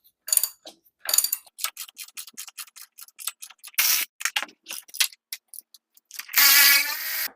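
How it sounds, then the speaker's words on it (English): Bolts are removed from the rusty frame of a 1953 GMC Hydra-Matic truck, heard as scattered close metallic ticks and ratchet clicks with brief gaps, ending in a longer louder grinding burst. "I'm just going to get these 4 bolts out and leave all of the brake parts where they are."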